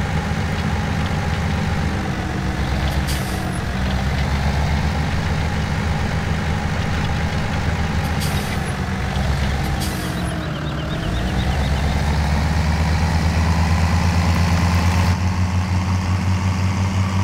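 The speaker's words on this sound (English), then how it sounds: "Oh my, this is a very interesting tractor." A tractor engine idles in Farming Simulator 2017, a steady low diesel drone with faint clicks and a brief dip in pitch midway before it settles into a deeper, louder hum.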